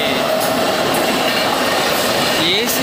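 A passenger train overtaking another at a station with two platforms on newly laid track, heard as loud, continuous rumbling rail noise with rising wheel squeal near the end.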